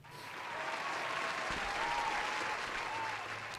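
A live studio audience applauds at a talk show, the sustained clapping swelling and holding steady at a moderate distance, with faint voices beneath.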